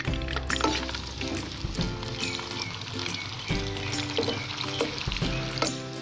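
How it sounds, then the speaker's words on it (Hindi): Onions frying in oil in a pan for home-style fried rice: a steady sizzle runs underneath throughout, with scattered stirring clatters and louder bursts, and no talk. "अब हम इसमें प्याज डालेंगे और हल्का सा इसे नरम होने तक पकाएंगे।"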